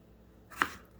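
A single knife chop through potato on a cutting board, cutting it into large pieces, landing as one sharp, close impact in an otherwise quiet kitchen.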